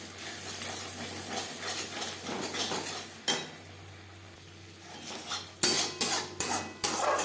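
Katla fish belly pieces in spicy oil masala being stirred in a pan over high to medium flame, soft sizzling under repeated scraping and clinking of a spatula against the metal, busiest toward the end.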